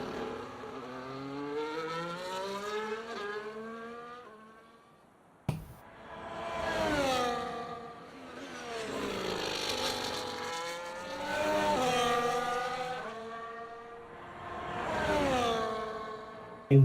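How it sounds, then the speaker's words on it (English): An F1 car in the F1 24 video game races down the Jeddah straight with DRS active, its high engine note climbing through repeated upshifts in rising, falling sweeps, loud and continuous with no talk. "As Katrina's heading down the straight, DRS active."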